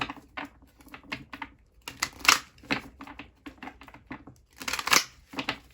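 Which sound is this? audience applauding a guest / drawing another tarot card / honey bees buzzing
drawing another tarot card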